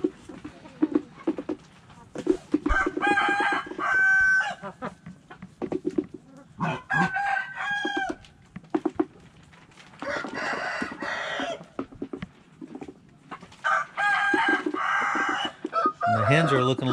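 Blue Shamo/Ga Noi rooster of about 9 pounds, crowing in several long drawn-out bursts with clucking between them, close and loud, against faint background noise.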